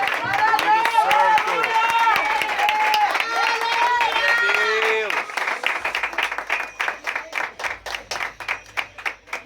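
A church congregation claps in a steady rhythm, with loud voices singing and talking over the first half before the sharp, regular claps carry on alone toward the end.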